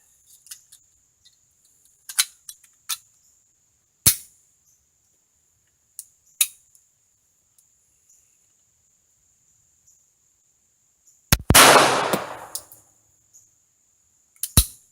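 A Radom P-64 pistol fires once at an outdoor range, a sharp loud crack with a brief ringing tail, set among sparse quiet clicks and handling taps and a steady insect chirp.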